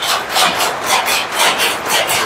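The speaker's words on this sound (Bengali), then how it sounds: "আর এখানে হচ্ছে শাড়ি তৈরি মেশিন," A saree weaving machine runs in a saree factory, giving a steady, rhythmic rubbing clatter that repeats about twice a second, fairly close and loud, with no talking.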